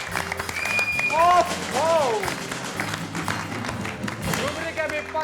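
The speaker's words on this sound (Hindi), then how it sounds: "जोरदार तालियां" Studio audience applause on a Bhojpuri television game show, a burst of clapping under a host's voice, with brief electronic tones sweeping through as a short exclamation is spoken.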